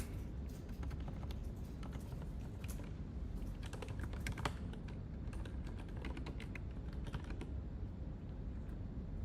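Rapid, uneven clicking of someone typing on a computer keyboard, close and steady throughout, with no voices.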